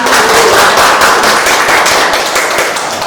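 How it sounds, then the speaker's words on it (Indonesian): Loud, dense applause from a talk show audience, many hands clapping steadily for about three seconds and easing off slightly at the end. "Oke, tepuk tangan teman-teman."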